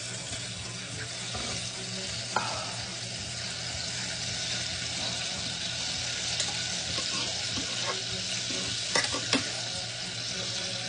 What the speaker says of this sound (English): now we're going to put some margarine and some onions in there